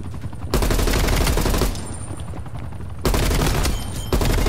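Sustained automatic gunfire in the video game Call of Duty Cold War, loud, dense bursts of rapid shots that cut in and out, with short quieter gaps between volleys.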